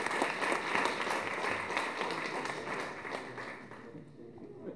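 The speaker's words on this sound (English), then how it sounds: "give a round of applause to Councilmember Mendelson" A conference audience claps steadily, a broad wash of hands from a large room held at an even level for several seconds before slowly easing off.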